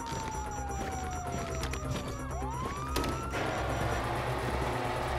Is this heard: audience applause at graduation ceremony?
no